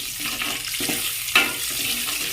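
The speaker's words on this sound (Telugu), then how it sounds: "ప్రిపేర్ చేసుకున్న మసాలాలు ఆయిల్లో యాడ్ చేసుకోవాలి. వీటిని డీప్ ఫ్రై కానివ్వాలి." Masala spices deep-fry in hot oil for an egg masala curry, giving a steady, close, crackling sizzle with a brief sharper pop partway through.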